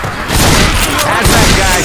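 A pipe bomb blows up in Left 4 Dead 2, a loud, dense, continuous rumble of blasts and booms filling the whole moment, with voices mixed faintly underneath.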